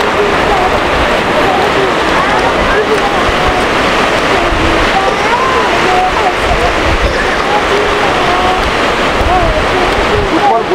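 Sea waves wash onto the beach at Henry's Island in a steady, loud, continuous roar of surf and spray that fills the whole scene with no break.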